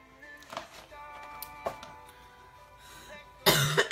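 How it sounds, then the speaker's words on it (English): Several short, sharp coughs from one person indoors, spaced apart over quiet background, ending in a louder, harsher burst of coughing. "I'm trying not to cough a lung up."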